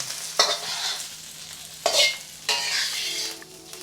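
Onions stir-fry in a hot wok for soy sauce chow mein, with a steady sizzle broken by three loud scraping, hissing surges as they are tossed, and no voices.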